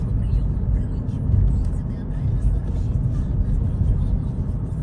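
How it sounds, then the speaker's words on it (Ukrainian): A Ford Escape drives through a village at about 60 km/h, a steady low road rumble and engine drone that stays continuous and fairly loud throughout, with no voices. "Зараз їду по селу, швидкість 60 приблизно"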